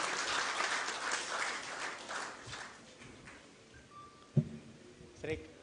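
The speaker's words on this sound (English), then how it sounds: "Can we have a huge round of applause for the wonderful and informative session," Applause from a conference audience at a green shipping conclave, a broad rustling wash of clapping that fades over a few seconds, with a few scattered thumps and voices near the end.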